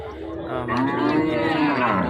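A loud, drawn-out cow moo fills the whole clip, a low bellowing call rising and holding steady, close by at a cattle market, with no talking.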